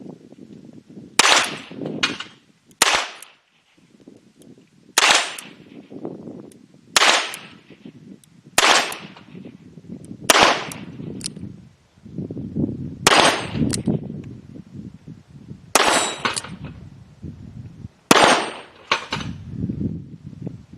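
Hi Standard Sentinel R108 .22 revolver firing CCI standard velocity 40-grain lead rounds: nine sharp, loud cracks spaced about two seconds apart, each followed by a short low rumble of echo.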